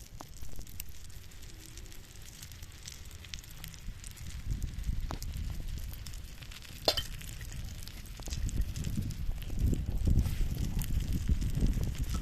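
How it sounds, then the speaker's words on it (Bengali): Steady frying sizzle of a brinjal and egg omelette crackles throughout, growing a bit louder and busier in the latter half, with occasional light scraping. "ডিমটা পুরো সুন্দর ভাজা হয়ে গেছে"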